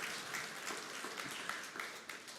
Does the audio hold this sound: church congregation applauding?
yes